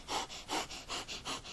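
A person breathes heavily and out of breath after walking up a single step, with six quick, rhythmic, airy in-and-out breaths close to the microphone and no talking.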